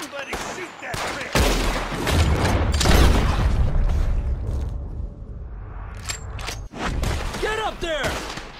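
Gunfire in Red Dead Redemption 2 crackles in bursts of close, sharp shots and volleys, with heavy booms and brief gaps between them, and voices shouting in between.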